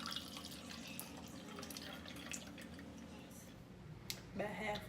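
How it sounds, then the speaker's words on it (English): Water pours steadily into a can for a physics demonstration, a continuous splashing trickle under faint background noise that rises as the can fills toward halfway, ending with a brief louder gurgle. "we'll be pouring water into this can and fill it up about halfway."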